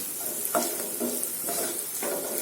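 Onions sautéing in oil in a pan for an okra dish, a steady close sizzle with a few regular scraping stirs about every half second.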